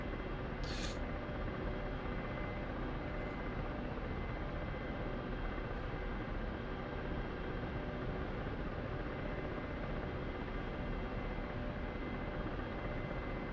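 A Ka-50 Black Shark helicopter in the flight simulator DCS gives a steady, dense rotor and turbine drone that stays constant throughout at moderate level, with no talk over it.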